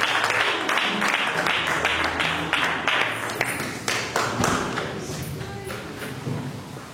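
A church congregation applauds and cheers as the prophet Benjamin comes forward to preach, a loud, dense spread of clapping that stays steady before thinning slightly toward the end, with scattered voices mixed in.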